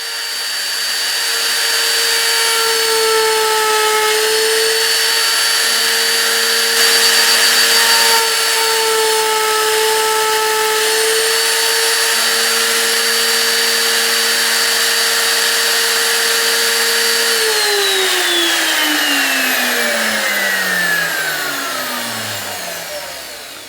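A power tool cuts channel notches into wooden slats for a Black River Sleds SnowWalker toboggan, its loud, steady high motor whine running close for about seventeen seconds with slight dips under load before spinning down to a stop, with no talking.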